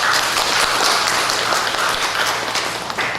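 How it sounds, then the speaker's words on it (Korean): A church congregation in Korea gives a thick, continuous round of applause that holds for several seconds before tapering slightly at the end. "예, 박수 칩시다."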